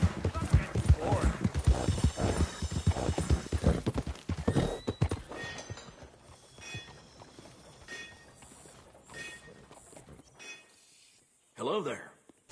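Horse hooves clip-clop rapidly and loudly in Red Dead Redemption 2, a fast rhythmic gallop that slows and fades over several seconds, followed by quieter scuffs and a short whinny-like sound near the end.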